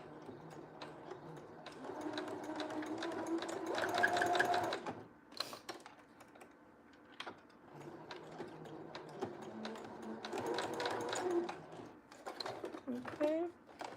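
Close sewing machine back stitching an elastic band, running in bursts of rapid mechanical chatter that start and stop, with a voice talking between and over the runs.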